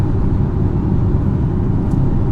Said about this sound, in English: Road noise, yeah,